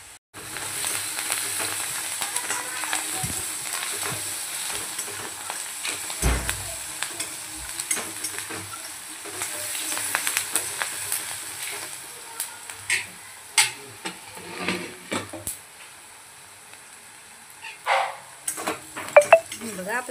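Chopped onion frying for rava upma, sizzling steadily in a pan while a spoon stirs and scrapes it, with sharp metallic clinks and knocks growing more frequent toward the end, no voices.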